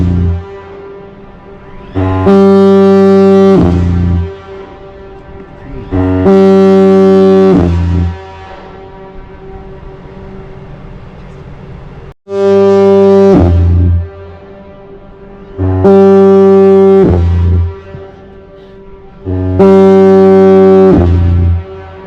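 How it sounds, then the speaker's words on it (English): A powerful foghorn on a 65 ft steel expedition trawler sounds five long, deep, brassy blasts, each lasting about two seconds with short pauses between, very loud and close, and no talking over it. "That's the foghorn."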